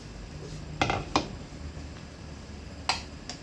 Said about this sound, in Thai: คนนะครับ หมั่นคนนะ เพราะว่าเขาจะติด